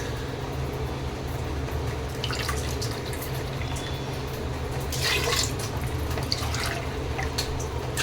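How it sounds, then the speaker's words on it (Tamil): Water splashes and trickles steadily into a cooking pot while making venn pongal, against a constant low hum, growing busier midway, fairly close and moderately quiet. "இப்போ தண்ணி சேர்த்துக்கலாங்க"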